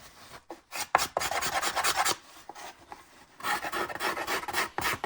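Dry rasping scrapes on thin wood, repeated strokes in bursts with short pauses, close and fairly loud.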